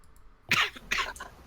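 Two short, harsh coughs from a person at a tabletop Dungeons & Dragons game session, the first strong burst followed by a second a moment later, with a fainter trailing rasp and no speech around them.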